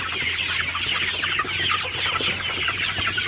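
A flock of Sonali super hybrid chickens at 54 days old clucks and chatters steadily and continuously, a dense close chorus over a low steady hum, with no voices.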